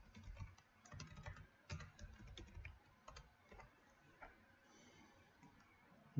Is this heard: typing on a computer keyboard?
yes